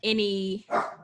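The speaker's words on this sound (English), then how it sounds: "Y'all, that's my dog." A dog barks once close by during an interview, with a short whining note before it and a person's voice around it.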